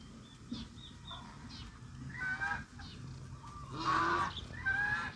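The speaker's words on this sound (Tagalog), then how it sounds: "Mga siw-siw ng pabo." Turkey chicks peep and chirp in a farmyard, high thin calls scattered over steady background noise, with a few louder honking cries.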